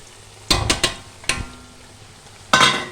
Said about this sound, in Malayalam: ഇവിടെ എണ്ണ നല്ല ചൂടായിട്ടുണ്ട്. ഇനി അതിന് ചക്ക ഒന്ന് അതിലേക്കിട്ടൊന്ന് വാട്ടിയെടുക്കണം.